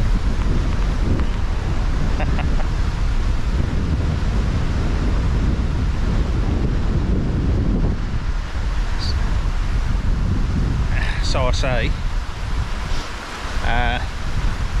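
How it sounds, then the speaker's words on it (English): Strong wind gusts buffet the microphone on the Watkin Path, a mountain trail in Snowdonia, a loud continuous low roar that swells and eases, with a brief spoken phrase and a few faint high bird chirps near the end. "If there's any more gusts of wind like that though"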